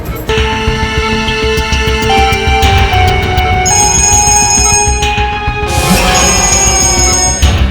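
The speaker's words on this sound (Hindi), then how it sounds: "डीसीपी चित्रोले साहब का बार बार फोन आ रहा है" A loud, continuous telephone ringing tone with bright bell-like harmonics, sustained throughout and shifting pitch partway, with no talking.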